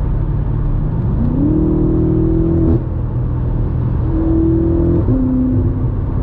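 A car engine revs and accelerates in a manual M1 stick-shift mode, rising in pitch through gear pulls, dropping at a shift, then climbing again, loud and steady with no voices.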